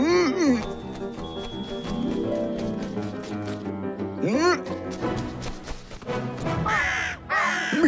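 Cartoon crows caw loudly in repeated harsh bursts around a scarecrow, with animated character voices talking over and between the calls.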